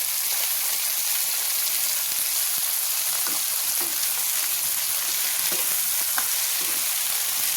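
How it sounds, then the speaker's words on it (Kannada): Cut beans sizzle steadily in hot oil for a village-style beans palya, a dense continuous frying hiss with faint stirring clicks and scrapes throughout, no voices. "ಎಣ್ಣೆಯಲ್ಲೇ ಸ್ವಲ್ಪ ಹೊತ್ತು ಫ್ರೈ ಮಾಡಬೇಕು. ಬೀನ್ಸ್ ಹಸಿ ವಾಸನೆ ಹೋಗೋ ತನಕ ಫ್ರೈ ಮಾಡ್ಕೊಳ್ಳಿ."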